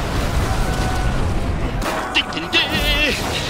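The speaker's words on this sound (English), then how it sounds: "And fireball." Fireball spell explosion from the Clash of Clans video game: booming blasts with crackling impacts in the second half, loud and close, over a rumbling background.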